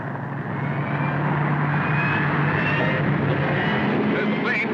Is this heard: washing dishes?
no